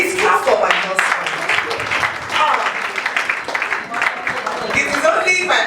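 A large conference crowd applauds a woman's husband, with dense, lively clapping and some cheering rising and falling throughout while voices and talk carry over the top.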